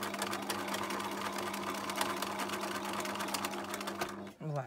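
Sewing machine stitching lace onto a shabby-style wine bottle apron, running loud and steady with a fast continuous rhythm, then stopping abruptly near the end as a voice speaks over it.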